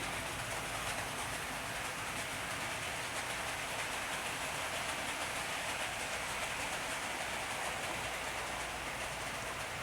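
A Hornby Class Q1 model locomotive running along a model railway track at a steady freight speed, giving a continuous close whirring rumble with faint rhythmic clicking, even in level throughout with no talk.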